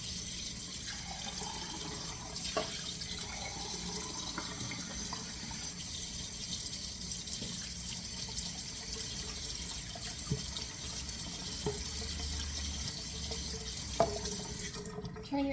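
Tap water runs steadily into a measuring cup in a home kitchen while baking granola, a faint continuous stream with a few small clinks, and quiet talk in the background.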